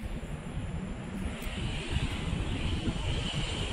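An airplane at an airport, a steady broadband engine rumble with wind-like hiss, fairly close and continuous, with no talk over it.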